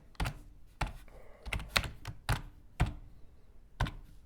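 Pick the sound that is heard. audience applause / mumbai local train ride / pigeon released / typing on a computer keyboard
typing on a computer keyboard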